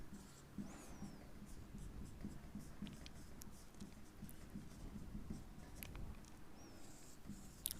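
Chalk or marker scratches and taps across a classroom board during an electronics lecture, faint irregular strokes over a quiet room hum, with no voice present.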